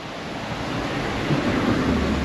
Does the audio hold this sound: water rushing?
yes